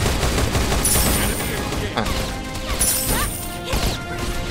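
Rapid gunfire from the blind fire ability in the video game Hyper Universe, dense crashing bursts running throughout amid loud game effects, with sharper cracks near the middle and end.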